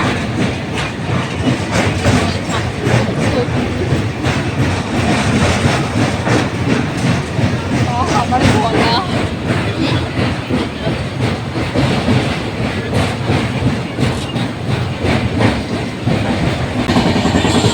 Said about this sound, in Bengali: আর আমাদের ট্রেন এখন চলে এসেছে কোলাঘাটে।